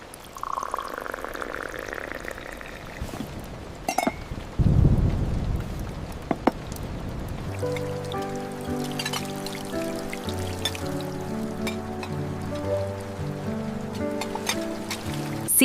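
Heavy storm rain drums steadily on a van roof, with a loud rolling thunderclap early on. Soft, sustained musical tones join later beneath the constant downpour.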